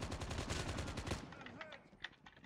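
Rapid pistol fire in Call of Duty: Mobile, a quick run of sharp shots for about a second, then quieter clicks and game effects, with faint voice in the background.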